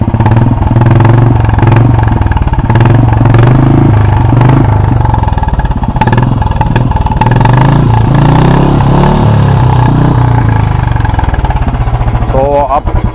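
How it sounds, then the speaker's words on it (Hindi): A Royal Enfield Bullet 350 is revved with the throttle blipped, its exhaust rising and falling in loud, close bursts over a running idle, with talk faintly under the engine. "अब थोड़ी सी रेस देके दिखा देते हैं।"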